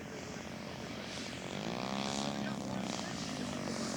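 Propeller-driven scale model airplane, a past champion scale aircraft, flying in to land at a scale model show; a steady buzzing engine drone rises slightly as it passes near, with faint background chatter.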